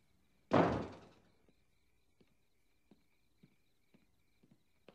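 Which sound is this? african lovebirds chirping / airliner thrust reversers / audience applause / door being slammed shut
door being slammed shut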